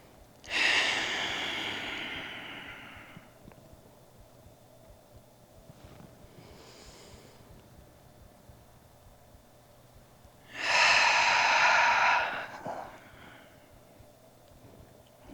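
Two slow, deep breaths during a gentle yoga session, each a long airy exhale close to the mic, separated by several seconds of quiet room tone.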